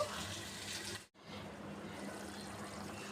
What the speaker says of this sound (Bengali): এখন পানি দিয়ে দিলাম দিয়ে এটাকে আমি দশ মিনিট ঢাকা দিয়ে ঢেকে রান্না করব